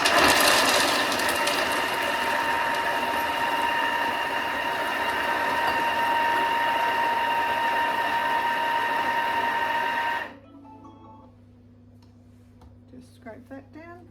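A Thermomix blitzes almonds on speed 6, a loud steady whirring grind for about ten seconds that stops abruptly, followed by quiet room sound.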